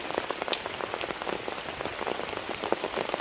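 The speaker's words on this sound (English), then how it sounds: "And seriously raining." Heavy rain drums on the fabric of a small Zephyros 1 tent at a wet wild campsite in a storm, a dense, close patter of many drops with no one speaking.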